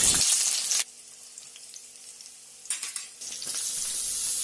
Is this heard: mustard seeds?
yes